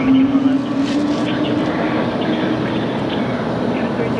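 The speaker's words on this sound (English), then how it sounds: "I hear some Pratt & Whitney Neo engines" A jet airliner with Pratt & Whitney Neo engines roars steadily and loudly near LAX, a constant broad engine rumble with a voice talking over it.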